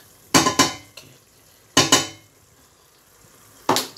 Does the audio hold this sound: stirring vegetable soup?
yes